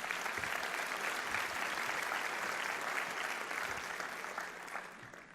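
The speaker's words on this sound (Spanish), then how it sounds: "Un aplauso a Dios." A church congregation claps for God after a sermon, a steady dense wash of many hands applauding together, fairly distant and even throughout, fading slightly at the end.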